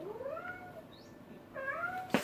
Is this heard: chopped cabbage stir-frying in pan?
no